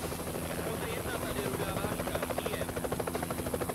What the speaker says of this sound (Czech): Ať ten vrtulník vypadne.